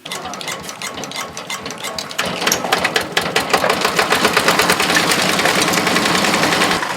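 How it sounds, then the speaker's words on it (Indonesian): A grinding machine processes organic fertilizer, a loud continuous mechanical rattle with rapid steady knocking that picks up and intensifies after a couple of seconds, close and alone without talk. "Lantas itu digiling."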